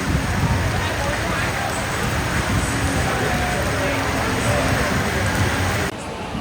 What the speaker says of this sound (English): The sound of rain hitting a hot tin roof.